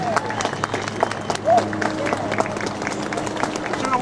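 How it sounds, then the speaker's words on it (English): An outdoor crowd at a military appreciation bass fishing tournament applauds after a parachute demonstration, producing steady clapping and a low crowd murmur at moderate distance with a few faint whistles. "Nice round of applause, ladies and gentlemen."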